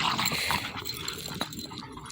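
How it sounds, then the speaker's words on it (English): An Airedale terrier whimpers and whines in short, close bursts, with a faint growl mixed in, outdoors after the first snow. "And that's Baron, the other Airedale"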